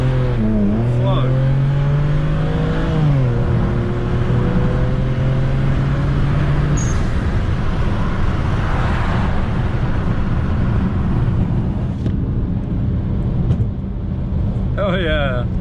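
A BMW 335i with Burger Motorsports intakes and a JB4 tune pulls hard, its engine note rising, dropping at a shift, then giving way to a loud rushing roar heard from inside the car, with voices talking over it.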